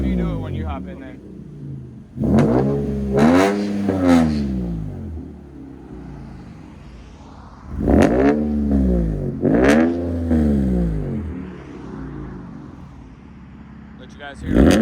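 Loud revs from a 2017 Nissan 370Z fitted with headers and a Motordyne cat-back exhaust come in two separated pairs of rising and falling blips over a rumbling idle, close by.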